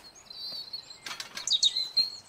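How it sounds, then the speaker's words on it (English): Bird chirps and a burst of wing flapping from a bird in the cozy plant puzzle game Botany Manor, a soft flutter midway followed by several bright, close tweets. "I don't know why this bird is not coming down."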